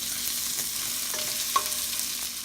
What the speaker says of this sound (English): Now we'll put our onions. Cook this again for another minute.